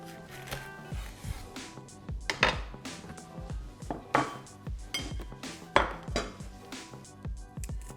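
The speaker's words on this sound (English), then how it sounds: "We're gonna take our jalapeños and cut them in half." A kitchen knife halves fresh jalapeños for Cajun shrimp-stuffed peppers, giving irregular close knocks and crisp clicks against a surface, with faint steady background music underneath.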